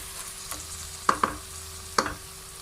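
Grated carrots sautéed in ghee for carrot halwa, a soft sizzle broken by a few sharp spoon scrapes and stirs against the pot, close and alone.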